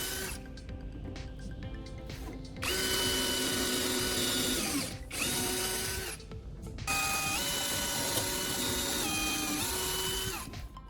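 A power drill whines in two sustained bursts with short pauses between them, driving screws to fasten parallel guides into a wooden base, with a steady motor tone at moderate volume.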